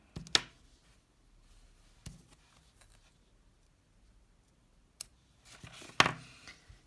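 Scissors snip yarn ends on a small crocheted amigurumi bag, a few sharp close cuts scattered through near silence, with a double snip at the end.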